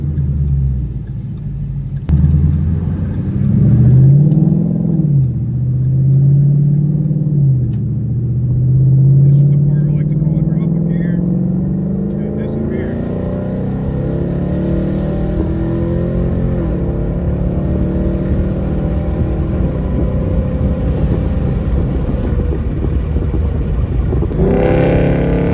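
Engine of a 2014 Ford Mustang GT in sport shift mode, heard from inside the cabin while decelerating and downshifting: a loud, continuous low rumble whose pitch sweeps up and down with gear changes, then settles into a steadier drone.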